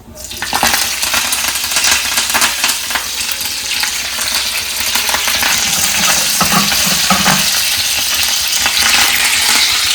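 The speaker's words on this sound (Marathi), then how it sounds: "तर इथे तेल आपला गरम झालेला आहे, तर याच्यात मी आता घालते हिंग थोडासा, कढीपत्ता," Asafoetida and curry leaves hit hot oil and sizzle loudly in a steady, dense crackle that holds from start to finish, with a few stirring clinks and no talking.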